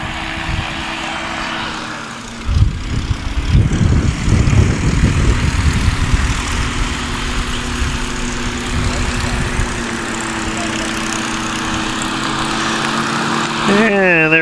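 A 300-horsepower Yamaha-powered Wild West Highlander STOL airplane flies past at a practice event, its loud propeller drone swelling and holding steady under a commentator's voice over a loudspeaker.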